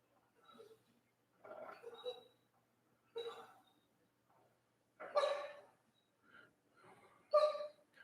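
A sleeping dog whimpers while dreaming, giving quiet intermittent whines and muffled yips in short separate bursts with silent gaps between them, close by and indoors.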